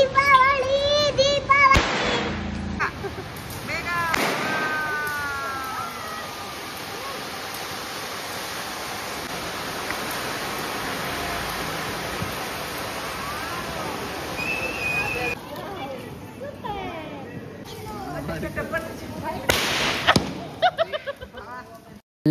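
Diwali firecrackers bursting in an apartment-area street, a few loud sharp bangs standing out among continuous crackling, whistling rockets and crowd babble; people talk throughout.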